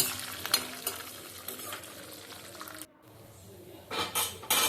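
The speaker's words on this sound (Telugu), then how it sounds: "కరివేపాకు ఎండుమిర్చి ఇవన్నీ వేసి కొద్దిగా వేగనిస్తాం" Curry leaves and dried red chillies fry in oil for ragi semiya upma, a gentle crackling sizzle with occasional spoon and pan clinks, a quiet pause, then sharper bursts of stirring.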